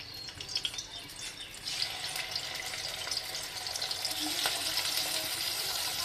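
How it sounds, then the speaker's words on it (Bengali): Fish pieces frying in oil for a breakfast of panta ilish, giving a steady broadband hiss and crackle that grows slightly louder after the first couple of seconds, close by with no talking. "এবার মাছগুলো ভেজে নিই, তেল দিয়ে দিই। এবার মাছগুলো দিয়ে দিই।"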